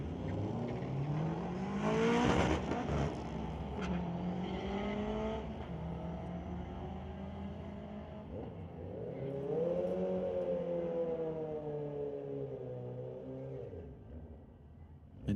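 A yellow Corvette and an import car drag race at night on the Mission Raceway Park strip, engines roaring loud and near with repeated rising revs as they pull away and shift, without speech.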